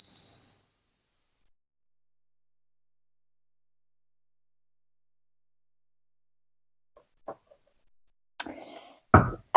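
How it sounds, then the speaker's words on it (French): A small bell from Seoul is struck once, giving a bright, clear ringing tone that fades within a second. Long silence follows, then a few soft knocks and rustles close by. "On commence par réinitialiser les énergies avec ma petite cloche de Séoul."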